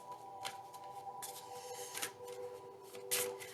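A deck of gratitude cards is shuffled by hand at close range, giving a few short, papery bursts spaced unevenly over a quiet background hum.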